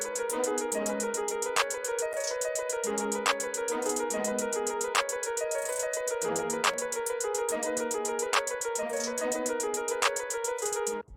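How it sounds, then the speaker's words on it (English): A fast programmed hi-hat pattern in FL Studio, built on triplets with rolls, ticks steadily throughout alongside a dense, looping trap beat with melodic layers, loud and continuous with no voices. "The hi-hat pattern that I put in sounds something like this."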